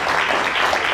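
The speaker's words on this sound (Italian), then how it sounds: "un applauso di incoraggiamento." A conference audience at a Blender event in Italy applauds in a brief, dense burst of clapping that fills the room.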